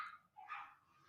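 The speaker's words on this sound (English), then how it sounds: "I don't know why my dogs are fighting." Dogs fighting over a toy indoors, giving short yips and a whimpering bark, faint and somewhat distant, over a quiet background.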